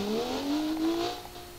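Simulated car engine in a BeamNG driving game, an Audi RS6, revving with a rising whine that climbs steadily in pitch, steady and fairly loud with no talk over it.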